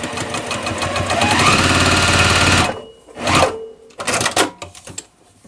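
A sewing machine stitches quilt block pieces together in a fast rattling run of needle strokes for nearly three seconds, then stops, followed by a few short bursts of stitching.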